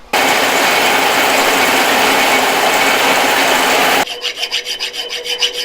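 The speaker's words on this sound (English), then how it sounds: "She's not the newest lathe. It gets the job done." A loud, steady mechanical whir and grind of a running metal lathe for several seconds, then shifting to a softer rhythmic rattling.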